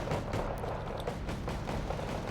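Artillery shells, high-explosive and cluster rounds, landing in a Wargame Red Dragon battle around a town, a dense run of faint, distant rumbling blasts and crackling impacts with no talking.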